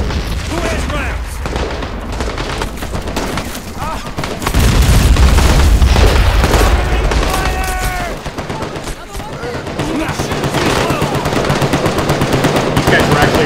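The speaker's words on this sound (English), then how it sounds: "the guy that's back here firing with the M60 is an ally" An M60 machine gun fires long, rapid bursts in a Vietnam War battle at Khe Sanh in Medal of Honor, with heavy booms and other gunfire around it, and someone talks over the shooting.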